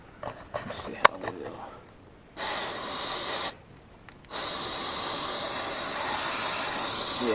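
Brake cleaner sprayed onto the oily valve cover of a Honda 400EX quad engine: two long, loud aerosol hisses, one brief and one sustained, after a few faint clicks and handling noises.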